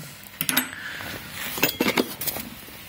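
Metal gearbox shift forks clink and clatter against each other in a few short bursts, bright and close, with brief pauses between.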